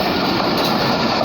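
An express train on Pakistan Railway rushes past close by, giving a loud, steady broadband roar with a continuous rail rumble and no break in level for the whole moment.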